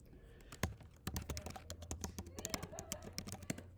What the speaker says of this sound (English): So I'll type in Wenatchee Real Estate.